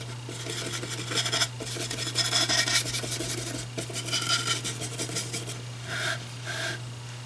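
A paintbrush buffs white acrylic paint over canvas in soft, repeated scrubbing strokes, rising and falling in bursts over a steady low hum, with no talking.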